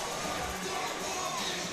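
A baseball stadium crowd at a Cosmic Baseball game gives off a broad, continuous roar of cheering, fairly faint and diffuse, lasting under two seconds with no clear voices above it.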